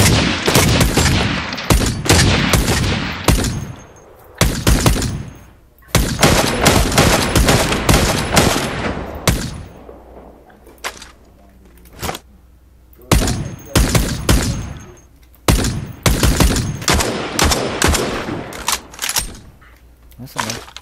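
Rapid bursts of automatic gunfire in the video game Badlanders, loud and repeated with short pauses, mixed with a person talking over the action.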